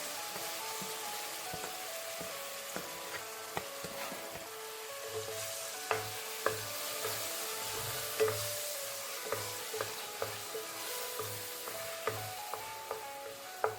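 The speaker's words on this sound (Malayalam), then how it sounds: "ഇനി ഈ നെയ്യിലേക്ക് നമുക്ക് ഈ പഴം ഉടച്ചതിട്ട് ഒന്ന് നല്ലതുപോലെ വരട്ടിയെടുക്കണം." Mashed kadali banana sizzling and frying in ghee in a pan, with steady crackle and repeated scraping clicks of a spoon stirring throughout, fairly quiet and close.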